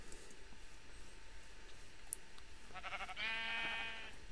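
A sheep in the video game Minecraft bleats near the end, one clear wavering cry over a faint, steady game background.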